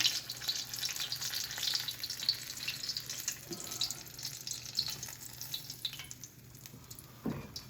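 Chiles sizzle and spit in hot lard, a steady close frying crackle with some stirring and clatter, plus a brief knock or two near the end.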